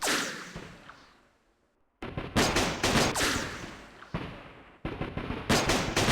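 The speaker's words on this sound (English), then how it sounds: "So we're taking some fire here." Gunfire in the Campaign Series Vietnam war strategy game: a dense crackle of rifle and machine-gun bursts after a fading boom, loud and continuous with no talk.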